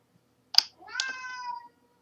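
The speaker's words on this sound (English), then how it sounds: "and your cat meows like crazy." A house cat meows from behind a closed door, one short sharp cry followed by a longer drawn-out, rising and falling meow, fairly clear against an otherwise quiet room.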